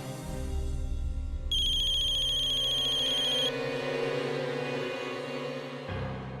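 A mobile phone ringtone plays loud and steady for about two seconds, a repeating electronic tone, then fades as a low hum and soft room sounds carry on beneath it.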